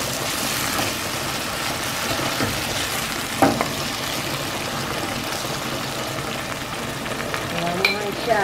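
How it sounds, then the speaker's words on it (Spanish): Pigeon peas sizzle and fry steadily in a pan, a dense continuous crackle with occasional stirring scrapes and clinks, close and fairly loud throughout. "Ahora le vamos a echar un guandule para que se vaya sofriendo."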